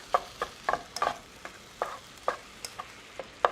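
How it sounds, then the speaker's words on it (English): Ground beef sautéing in a pan, a steady soft sizzle broken by repeated scraping stirs of a utensil against the pan at an uneven rhythm, close and alone with no voices. "You can hear the sizzle of the meat, which means all of that fat rendering is starting to burn out."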